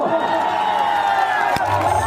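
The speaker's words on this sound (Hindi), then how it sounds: "तो पगले हाना करके ताली बजाओ" A large outdoor crowd cheers and claps at a stage show, a loud continuous roar with amplified music and voices over it.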